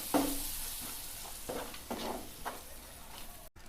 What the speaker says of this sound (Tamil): தக்காளி பேஸ்ட் சேர்த்துட்டு நல்லா கலந்து விடுங்க